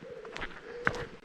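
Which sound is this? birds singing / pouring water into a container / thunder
birds singing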